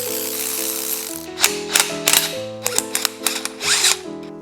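A ratchet wrench removes the oil pump bolts on a Chevrolet Silverado with quick rhythmic clicking and some sharp metallic clanks, all close by. A steady mechanical hum runs underneath the whole time.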